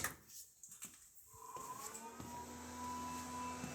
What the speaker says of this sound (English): That is the Brusa fans.